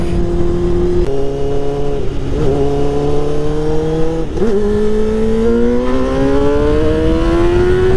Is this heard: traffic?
yes